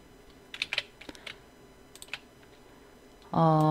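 A run of sharp computer keyboard and mouse clicks while working in illustration software, spaced irregularly in a quiet room, followed by a sustained tonal sound at the end.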